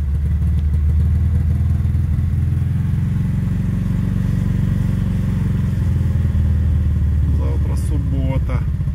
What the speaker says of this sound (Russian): А с подсосом заводится.